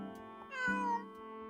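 A cat meows once in the video game Christmas Tina, a short, clear call against a steady electronic game background with no talk.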